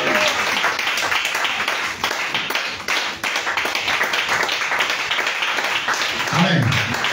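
A church congregation at a French-language praise and worship service claps and acclaims, a loud continuous mass of clapping and cheering voices that runs the whole stretch without pause.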